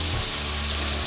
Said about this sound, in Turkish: Şöyle bir cız sesi.